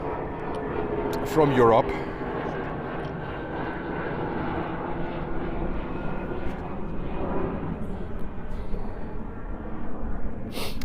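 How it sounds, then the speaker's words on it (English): A jet airliner takes off at JFK airport with a sustained, fairly distant engine roar and rumble, while someone talks over it. "we have back-to-back takeoffs at the moment"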